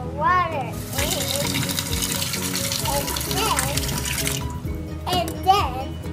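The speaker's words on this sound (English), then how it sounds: "Next, we'll pour some water in." Tap water gushing into a kitchen sink for a child's pretend soup, a loud steady rush that runs for several seconds while someone talks excitedly over it.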